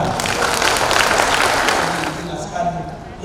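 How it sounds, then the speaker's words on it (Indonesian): Applause for Pak Jafar at a Democratic Party training session for election witness coordinators, a broad hall full of clapping that swells early and then thins toward the end. "Tepuk tangan untuk Pak Jafar."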